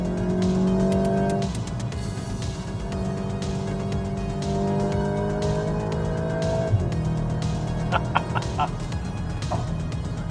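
A new Volkswagen Golf GTI, front-wheel drive with under 300 horsepower, accelerates hard. The engine revs and climbs through the gears, rising in pitch, then shifts and pulls again, loud and close.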